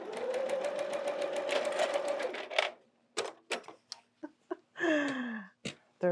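A sewing machine stitches a panel quilt with Minky backing, a steady close mechanical whir for a few seconds before stopping, followed by short clicks and a child's brief vocal sounds.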